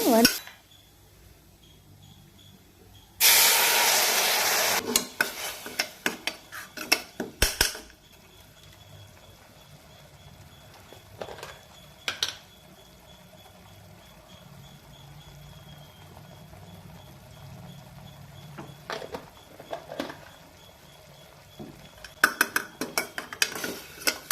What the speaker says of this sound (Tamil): தேவையான அளவு கருவேப்பிலையும் எடுக்கலாம் போட்டுக்கோங்க போட்டுட்டு நல்லா வதக்கிக்கோங்க